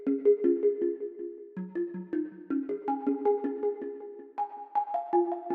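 A plucky hyperpop synth processed with chorus, delay and reverb plays a steady melodic line whose notes blur and ring into one another, giving a smooth, washed, ambient texture throughout.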